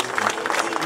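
Audience applause for a poet at a 2016 cantoria folk-singing gathering in Fontinhas, a steady dense clatter of many hands clapping throughout, fairly close and even in loudness.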